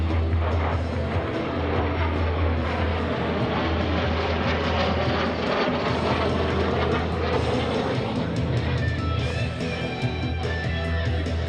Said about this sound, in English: The L-39 is a very capable jet trainer